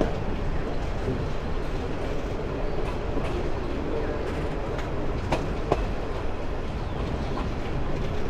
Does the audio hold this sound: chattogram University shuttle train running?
yes